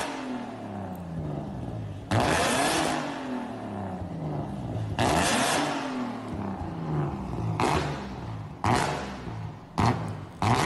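A modified car engine revs hard in repeated bursts, each surge climbing and falling with sharp onsets, loud and close, with no voices over it.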